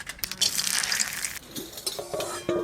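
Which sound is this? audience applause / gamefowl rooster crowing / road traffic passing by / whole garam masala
whole garam masala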